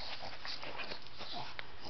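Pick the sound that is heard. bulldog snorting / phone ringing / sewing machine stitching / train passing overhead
bulldog snorting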